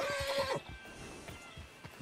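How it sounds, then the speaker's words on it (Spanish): A horse in Red Dead Redemption 2 gives a short, high whinny up close, then its hooves clip-clop softly at a walking pace. "Mi caballo se mete también, ¿sabes?"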